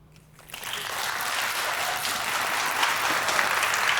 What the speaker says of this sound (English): Yes, look, they're clapping for you.